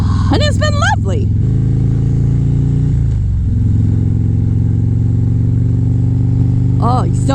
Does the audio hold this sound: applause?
no